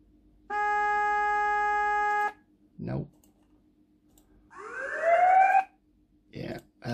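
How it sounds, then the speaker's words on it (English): An RC vehicle sound system plays a steady horn tone, then a few sharp clicks and a single rising ambulance siren wail, with brief clicks after. "Sounds like an ambulance."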